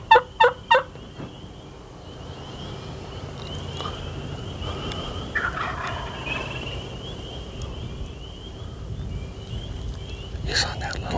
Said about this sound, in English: A few clucks might bring that tom towards us.